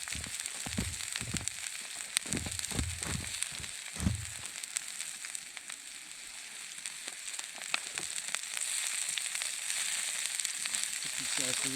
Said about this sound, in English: I'm just going to kind of push these mushrooms to one side